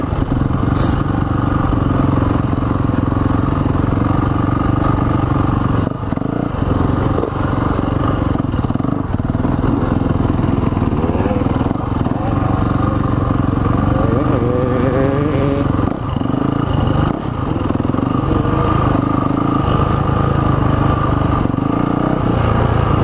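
A Yamaha motorcycle engine, ridden at a kids' ride day, blats and revs continuously nearby with an uneven, rattling drone; faint voices can be heard beneath the engine.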